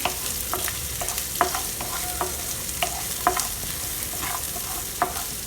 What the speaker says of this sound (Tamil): ஒரு பெரிய வெங்காயத்தை போட்டு நல்லா வதக்கி விட்டுறலாம்